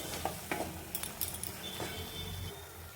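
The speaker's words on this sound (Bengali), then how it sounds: "এবার এটিকে ভালো করে মিক্সড করে নেব।" Spoon stirring ground coriander, fennel and cumin powder into potatoes in a pan for Dhaba-style dum aloo, with scraping strokes and light clinks over a soft sizzle, close and fairly quiet.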